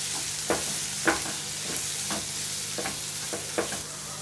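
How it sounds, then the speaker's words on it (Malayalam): Onions and spices sizzle steadily in a pan while a spoon stirs and scrapes through them, with a few sharper knocks standing out over the constant frying hiss. "നന്നായിട്ട് മിക്സ് ചെയ്യുക."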